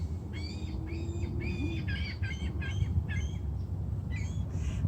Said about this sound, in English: Check out that convention of seagulls.